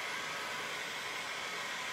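Hot air tool blowing steadily while heating wood bendable moulding, a constant even whoosh of airflow with no pauses, close and moderately loud.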